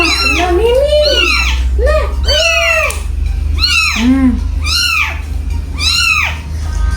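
Several cats meow over and over, close and loud, with rising-and-falling cries overlapping against a low steady hum, and a voice mixed in.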